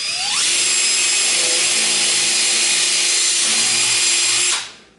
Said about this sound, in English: I'm going to use a 1/2-inch drill bit and drill a pilot hole in there.